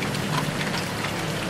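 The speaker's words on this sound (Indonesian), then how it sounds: "Hujan ini adalah rahmat Allah Subhanahu wa taala yang tidak boleh kita cela." Steady rain falls in a dense, continuous hiss with no break, alone and with no voices.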